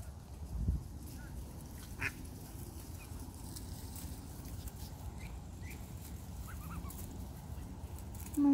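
Ducks and small ducklings on a lake shore quack and call near and at a distance, with one loud burst near the start and softer calls later over outdoor background noise.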